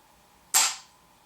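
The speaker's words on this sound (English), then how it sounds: "We'll give it 3 pulls and see where we end up on the Ruger factory trigger." A Ruger 10/22 factory trigger breaks once on a trigger pull gauge, giving a single sharp, close metallic snap that decays quickly, heard alone.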